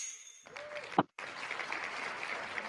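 A button-triggered applause sound effect during an online crafting show's prize announcement: a short ping, then a brief cut before a steady burst of recorded clapping plays on, fairly quiet.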